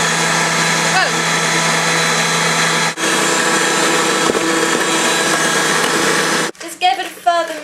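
An electric hand mixer whirs loudly and steadily through muffin batter with egg and vanilla, a continuous motor drone that cuts off near the end, when clattering and handling noises follow.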